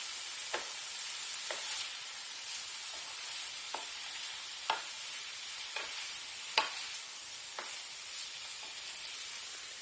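Chestnuts, mushrooms and parsley are stirred in a sizzling pan, with steady low frying hiss and repeated soft scraping clicks of a utensil at irregular intervals.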